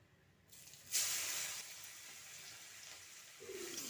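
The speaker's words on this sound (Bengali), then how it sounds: "পেঁয়াজটা বাদামি করে ভেজে নিতে হবে।" Chopped onions hitting hot oil with whole garam masala in a pan for a fish-head moong dal, a quiet start, then a sudden sharp sizzle that settles into a steady soft frying hiss.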